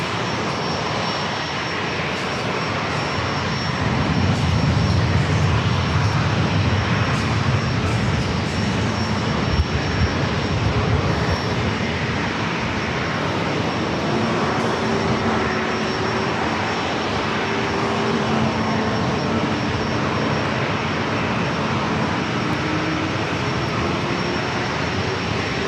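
A SkyWest jet takes off from runway 27 at San Diego airport, its engines roaring in a steady, sustained blast that holds loud and continuous, joined by a faint rising whine, with no talk over it.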